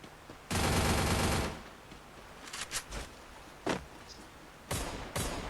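Gunfire in a shooting video game: a dense one-second burst of rapid automatic fire up close, followed by scattered single shots and a few short bursts at varying loudness.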